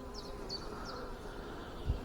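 Honey bees buzz steadily around an open hive during an inspection, a faint continuous drone with a few louder individual bees whizzing past nearby.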